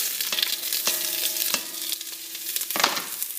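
Butter sizzles and crackles steadily in a pot on the stove, close and fairly loud, verging on burning, with scattered sharp pops and a few clinks of a utensil against the pot.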